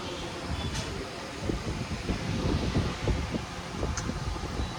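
An air cooler runs with a steady whooshing airflow hum and some rumbling fluctuation, fairly quiet and close, with no talk.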